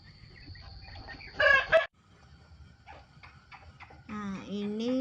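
Pet chickens before falling ill with a respiratory disease: loud clucking bursts near the start, a quieter stretch of scattered calls, then a drawn-out crow toward the end, with some background noise throughout.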